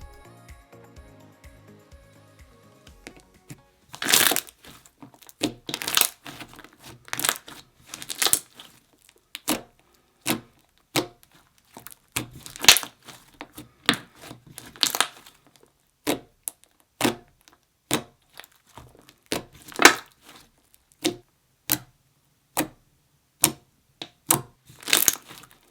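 Fluffy, clicky slime being squished and stretched by hand, producing a series of sharp crackling pops and clicks in irregular bursts, close up and alone with no talk.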